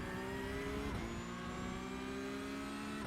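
Porsche Cup race cars roar around Imola in iRacing, a loud sustained engine drone with steady harmonic whine and a brief pitch dip as revs shift, with no voices over it.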